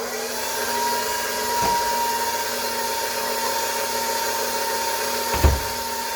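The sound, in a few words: electric mixer whipping cream for chocolate pie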